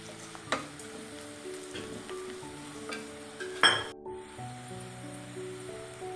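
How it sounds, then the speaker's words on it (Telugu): Onions frying and being stirred in a pan while making idli upma, a soft steady sizzle with occasional scraping clacks of a spoon, one louder knock near the end, beneath faint background music. "ఇలా బాగా వేగనివ్వాలండి ఆనియన్స్."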